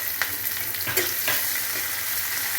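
Tomatoes tipped into a hot frying pan with onions sizzle steadily while being stirred, with a few sharper spoon scrapes over a constant, close frying hiss.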